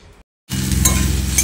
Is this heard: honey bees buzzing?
no